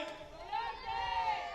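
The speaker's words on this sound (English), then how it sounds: "And there you hear the crowd getting into this game." Crowd noise at a top-level soccer match, a steady rumble of many voices rising briefly in excitement, fairly distant and blended with speech-like babble throughout.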